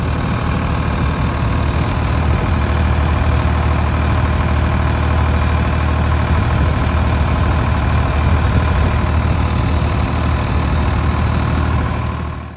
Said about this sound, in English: I come back with the tractor and the cultivator, go over the rows to help loosen up the dirt and mix in the fertilizer.